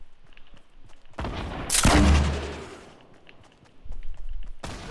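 Gunfire in the Fortnite video game, a loud burst of shots and a booming blast near the start, fading into quieter rumble before another volley, with no talking over it.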